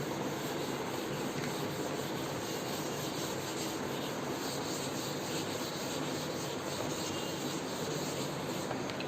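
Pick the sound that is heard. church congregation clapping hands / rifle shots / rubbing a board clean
rubbing a board clean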